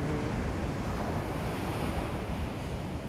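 Ocean surf at Malibu Beach, a continuous rushing wash of waves mixed with wind buffeting the microphone, loud and unbroken throughout.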